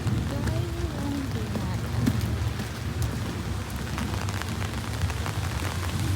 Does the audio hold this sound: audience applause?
no